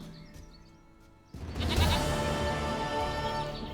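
A goat in The Witcher 3 video game bleats loudly in one drawn-out cry that starts suddenly after a quiet ambient stretch and holds to the end, close and alone.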